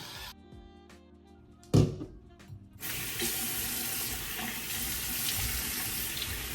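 A few soft knocks and clatters, then water gushes steadily from a faucet into a sink, close and fairly loud, running without pause.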